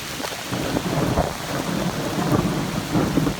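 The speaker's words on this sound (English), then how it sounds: "There's a little thunder." Steady heavy rain pours throughout a storm, with low rumbling thunder rolling underneath, close and continuous; no voices.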